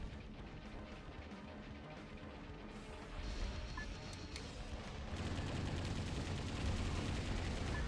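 Sustained rattling gunfire from an enemy gun battery in the mech action game Metal Wolf Chaos XD, a dense volley that swells louder toward the end.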